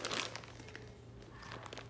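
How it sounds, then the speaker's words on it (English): A clean plastic bag crinkles and rustles close up as a Crisco-coated hand slides into it, a continuous run of crisp crackles with small bursts throughout. "my hand goes into the plastic bag that is clean"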